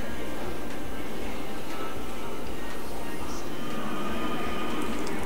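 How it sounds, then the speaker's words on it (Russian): Subway train pulling into an underground metro station, a steady loud rumble of wheels and rushing air filling the platform throughout, with a faint high squeal partway through. "А вот и мой поезд."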